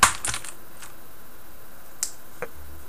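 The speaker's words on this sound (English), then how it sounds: "The Cherry Blue is a tactile clicky switch." Key clicks from a Das Keyboard Professional with Cherry MX Blue clicky switches, a sharp loud click at the start followed by a few lighter, sparse clicks, heard alone and close up.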